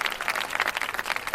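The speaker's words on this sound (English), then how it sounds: "Oh, another round of applause." Audience applause, a short burst of dense, even clapping at moderate loudness, heard alone without voices.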